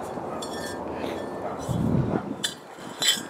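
Chunks of rock are pounded with a pestle in a mortar, giving sharp stony clinks and dull knocks, close by, over a steady background hiss.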